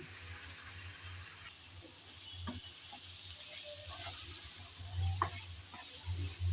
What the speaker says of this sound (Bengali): চিকেন দেওয়ার পর নেড়েচেড়ে ভেজে নিলাম